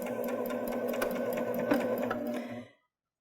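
A Baby Lock Jazz II sewing machine stitches a seam, running in a fast, even mechanical hum and clatter for under three seconds before stopping abruptly. The sound is close and there is no talking.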